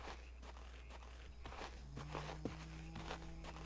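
Footsteps thud through a guard-duty horror video game from Korea: a steady run of close, soft steps over a low, constant background hum, with faint tonal drones layered in and no talking.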